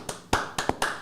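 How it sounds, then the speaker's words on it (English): A small, sparse round of applause for a podcast guest: four quick, close claps or taps in about a second, with no voices. "Big round of applause."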